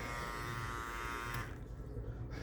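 Barber's electric hair clippers hum with a steady buzz for about a second and a half, then drop to a low, quieter drone before a brief knock at the end.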